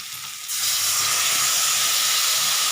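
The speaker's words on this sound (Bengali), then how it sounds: "মশলাটা আমি পেস্ট করে রেখেছিলাম এটা আমি দিয়ে দিচ্ছি" Spice paste for a vegetarian potato curry hits a hot pan and erupts into a loud, close, broad sizzle that stays steady and hissing, with no voice.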